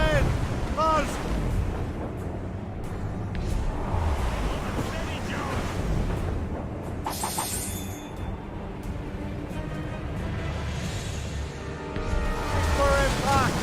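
Naval cannons boom from sailing ships in a sea battle in Assassin's Creed Rogue, heavy blasts rumbling over wind and surf while someone shouts commands throughout.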